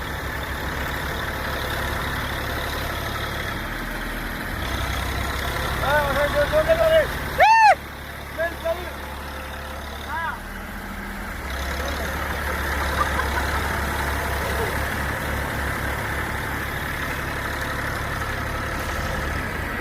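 Engines of two tractors run steadily while they unload soil, a continuous low idling rumble. A brief tonal honk-like burst rises midway before the drone settles back.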